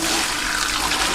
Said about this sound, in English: I'm just going to do what I suggested earlier and pour this water away